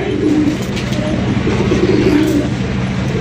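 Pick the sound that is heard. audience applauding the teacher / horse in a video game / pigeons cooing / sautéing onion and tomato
pigeons cooing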